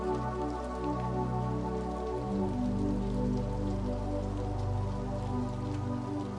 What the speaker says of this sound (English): the rain still there, quiet in the distance